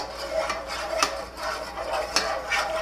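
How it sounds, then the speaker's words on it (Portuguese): Food stirred in a pan while cooking chicken filling for sandwich bread, a steady scraping and clinking of a utensil against metal with repeated sharp taps, close and continuous, no talking. "Vamos mexendo, deixa sem parar."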